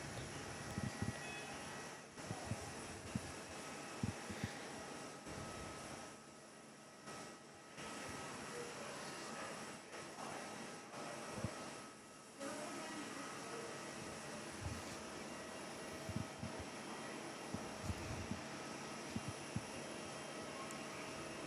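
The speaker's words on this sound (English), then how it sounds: "Thai is taxiing into the bay." Thai Airways Dreamliner jet taxiing at Perth Airport, a steady broadband engine roar that holds at a constant distance and level throughout, with a few brief dips in intensity.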